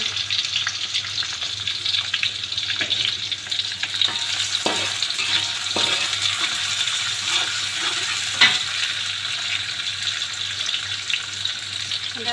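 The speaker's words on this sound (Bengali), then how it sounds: "আমার অয়েলটা গরম হয়ে গেছে আমি পেঁয়াজ কুচি কুচি দিয়ে দিই মরিচ কাটা" Chopped onion and chili fry in hot oil, a steady close hiss and crackle with occasional clacks of a utensil stirring the pan, and no one talking.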